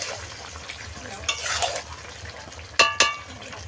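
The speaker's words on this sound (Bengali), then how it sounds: "তো বন্ধুরা কত সুন্দর তেল ছেড়েছে মাংসটা সুন্দরভাবে কষানো হয়ে যাচ্ছে" Meat sautés in oil in a pan with soft sizzling throughout, while a utensil scrapes and stirs, ending in two sharp metallic clanks against the pan.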